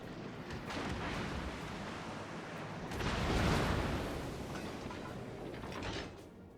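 The main guns of the battleship New Mexico fire in World of Warships, a broad, rumbling boom that swells to a peak midway and then fades into a low mechanical roar.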